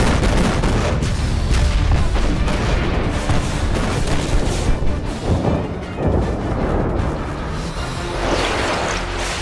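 Heavy gunfire in a film scene: a dense, continuous barrage of overlapping shots and booms, loud and close, with repeated sharper bursts throughout and no clear speech.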